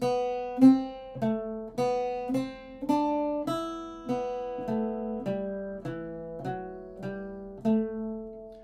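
A plucked Irish bouzouki picks out a slow melody from God Rest Ye Merry Gentlemen one note at a time, each note ringing and fading before the next, with no voices.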